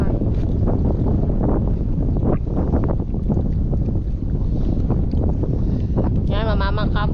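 Strong wind buffets the microphone while boating by small paddled boat toward an island, a constant loud roar with water splashes, a person talking over it and a whistling tone near the end.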